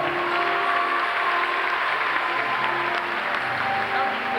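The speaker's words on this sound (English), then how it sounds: "Let's give her a round of applause and sing her some love as well." A crowd applauds steadily, a dense wash of clapping that holds at an even level throughout.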